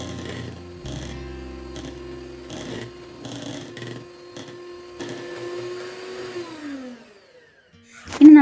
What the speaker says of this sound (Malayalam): ഇത് നന്നായിട്ടൊന്ന് ബീറ്റ് ചെയ്തെടുക്കാം.